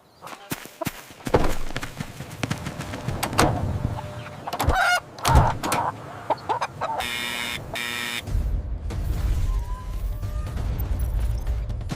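Cartoon hen and baby chicks cluck and cheep amid animated sound effects, with busy bursts, a whirring mechanical stretch and steady farmyard background, loud and close.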